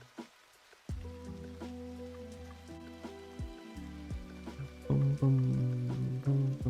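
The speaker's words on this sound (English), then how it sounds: "a walk in a rainy forest at dusk. Just chill vibes and the sound of rain" Rain falling in a forest at dusk, heard as a steady patter of drops with irregular louder drips, growing denser and heavier toward the end, with no voices.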